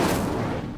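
Brief, dense whoosh of an Incendio fire spell cast in Hogwarts Legacy, loud and close, flaring then tapering within a split second.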